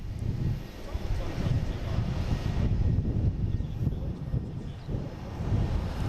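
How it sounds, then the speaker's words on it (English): A Delta Embraer E175 jet taking off from Boston Logan, bound for LaGuardia, gives a continuous broad roar that rises and holds, heard from a distance outdoors with some wind buffeting the microphone. "All right, we have Delta taking off,"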